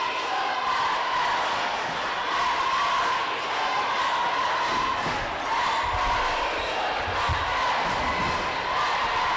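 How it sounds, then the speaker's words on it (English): Crowd noise at a girls' high school basketball game, a dense steady roar of cheering and shouting throughout, with faint thumps and shoe noise from the court underneath. "This crowd is erupting."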